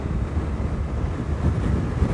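Heavy wind buffeting a rider on a BMW R 1300 RS motorcycle cruising near Narbonne, a dense steady low roar with no talk.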